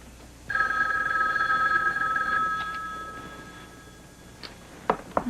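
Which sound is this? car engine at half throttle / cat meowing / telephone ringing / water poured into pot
telephone ringing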